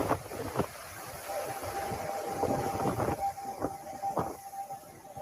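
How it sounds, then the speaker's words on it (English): Emergency sirens wail across New Orleans during Hurricane Ida, a steady tone holding over rumbling wind and street noise, with a few sharp bumps and knocks breaking through. "you can hear the sirens there"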